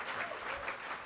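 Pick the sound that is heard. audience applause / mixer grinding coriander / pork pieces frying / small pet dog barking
audience applause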